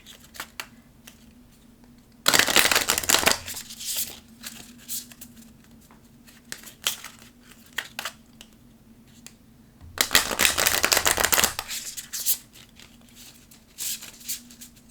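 Two bursts of card shuffling, a riffle around the start and another later, with soft handling and tapping of cards in between.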